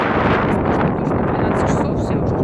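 Gusty wind buffets the microphone on a beach in Gelendzhik, a loud continuous rumbling roar with uneven surges and no clear voices.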